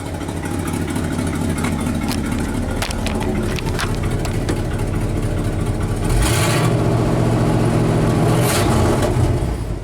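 A car engine fitted with a rebuilt Motorcraft 2100 carburetor and a tightened exhaust flange runs steadily, then gets a short burst of throttle near the end that raises its pitch and loudness before it settles.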